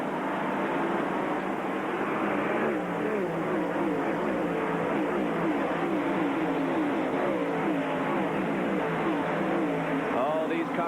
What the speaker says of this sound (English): the late model sportsman race is underway